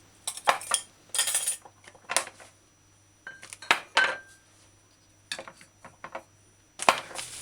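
Knife slicing a Scotch bonnet pepper in half on a board in a home kitchen, a series of sharp taps and clinks in irregular clusters with quiet gaps between, close and fairly crisp.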